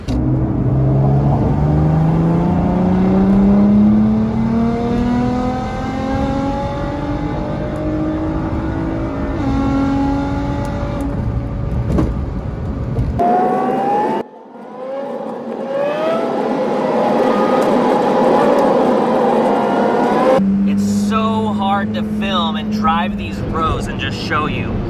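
Car engine on a night cruise, a Nissan GTR and Infiniti Q60, rising and falling through loud revving gear pulls with sustained engine drone throughout, a brief drop-out midway, and voices faintly mixed in.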